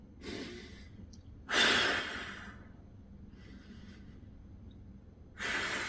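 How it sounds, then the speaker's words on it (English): Slow, deep breaths during a core workout for golf, three long audible exhales and inhales with airy hiss, close and alone in a quiet room. "Couple of nice deep breaths here to refresh, replenish"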